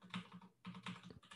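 Quiet typing on a computer keyboard while entering plotting code, short clusters of soft keystrokes separated by brief pauses, faint and close.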